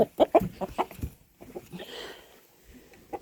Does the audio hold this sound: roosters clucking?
yes